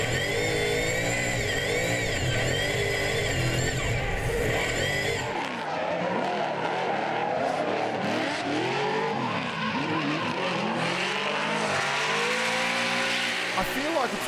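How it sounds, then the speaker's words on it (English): Onboard sound of a naturally aspirated V8 race car at speed, its engine revving up and down through gears in a continuous loud wail with tire noise, close and dominant throughout. "That's the noise of a race car right there."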